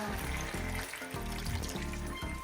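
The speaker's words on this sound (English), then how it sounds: "I'm just gonna add a little water as well." Water poured into a pan of searing chicken adobo with its marinade: a steady splashing pour over an ongoing sizzle, with bubbling and frying that pulse in short surges, close and moderately loud.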